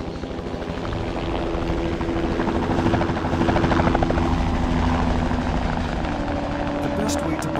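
A helicopter flies steadily and loudly close by, its rotor chop droning without a break over remote jungle terrain near a Papua New Guinea village.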